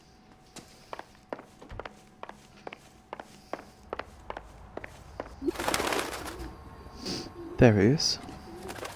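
A carrier pigeon in LA Noire, softly cooing near the end amid a series of evenly paced footsteps on stairs, with a brief spoken line and a rustling burst in between.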